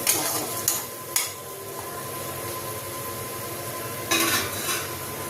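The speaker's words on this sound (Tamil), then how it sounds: "தக்காளியும் நல்லா வதங்கி வரட்டும்" Tomatoes and split green chillies sauté in a pan for palak paneer, giving a soft continuous sizzle, with a few sharp clinks of a spatula against the pan near the start and again toward the end.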